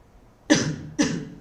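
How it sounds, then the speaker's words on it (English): Two short, sharp coughs about half a second apart, close and fairly loud against a quiet background. "Excuse me for that, just coughing a bit."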